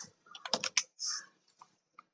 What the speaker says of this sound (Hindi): जैसे हम यहाँ पर टाइपिंग किए